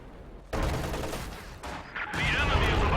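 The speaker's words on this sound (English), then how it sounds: "Looks like the howitzer is about to start its barrage once more" A howitzer artillery barrage in Company of Heroes 2, with heavy booming blasts arriving in a couple of loud waves against a noisy battlefield background.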